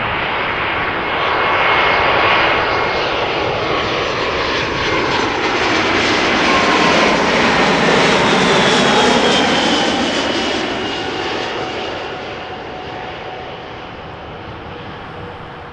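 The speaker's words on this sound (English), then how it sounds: "This is Vueling arriving from Valencia," A Vueling Airbus A320 jet lands, arriving from Valencia, its engines roaring loud and close with a rising then falling broadband whine and a Doppler sweep as it passes overhead, fading slowly afterward.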